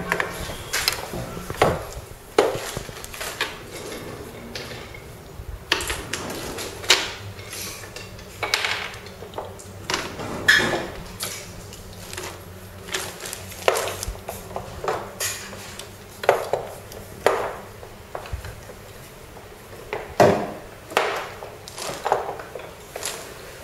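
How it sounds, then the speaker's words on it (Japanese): Sharp wooden taps and clicks as a technician adjusts the hammers of a Kawai US9X upright piano on site at a nursery, irregular close knocks and mechanism clatter over quiet room tone, no talk. "ハンマーの弦合わせといって、まっすぐね弦に当たっているかどうかを調整していくことですね。"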